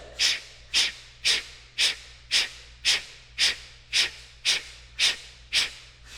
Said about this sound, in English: Focused on exhale. Now just exhale.